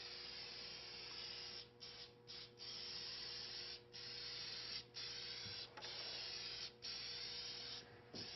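Spray gun shooting shellac sanding sealer onto a furniture piece on a turntable, a steady continuous hiss broken by several short pauses as the trigger releases, close and fairly quiet.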